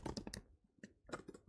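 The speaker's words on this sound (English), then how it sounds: "so much typing" Computer keyboard typing in short bursts of close, crisp clicks, a quick cluster at the start and another near the end with a brief gap between.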